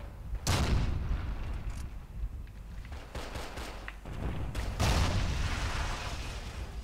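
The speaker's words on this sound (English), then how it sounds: "They're throwing nades." Loud blasts of grenades thrown in the Forgotten Hope 2 shooter's Hurtgen Forest battle ring out close by: one heavy burst near the start, a cluster in the middle and another big boom toward the end, over steady rumbling battle noise.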